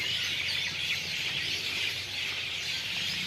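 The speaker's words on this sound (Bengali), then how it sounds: "এই যে দেখেন ময়না পাখি, টিয়া, চড়ুই পাখি ডাকতেছে" A dense chorus of myna, parakeet and sparrow calls rises from trees outdoors, a continuous busy wash of overlapping chirps and squeals at moderate distance, steady throughout with no talking.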